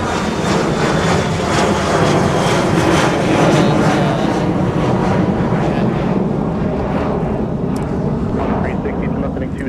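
An airplane departs Minneapolis–St. Paul airport in winter, a loud, sustained broadband jet roar mixed with heavy wind buffeting on the microphone, holding steady for the full length.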